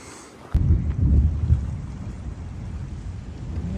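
A sudden low rumble of thunder breaks in over windy, rain-soaked outdoor ambience on the Lycian Way hiking trail and then trails off into a steady, muffled roar.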